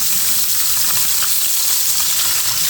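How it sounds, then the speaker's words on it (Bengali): Fresh river fish fries on one burner of a stove, giving off a steady, dense sizzle and hiss that stays even from start to finish, with no voices over it. "এক চুলায় মাছটা ভাজা বসিয়ে দিয়েছি"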